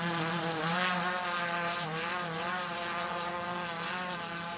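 Small single-seater off-road race car engine on the Don River Dash course, a steady high-pitched buzzing whine with dense harmonics, loud and sustained throughout, with slight pitch wavering as it revs.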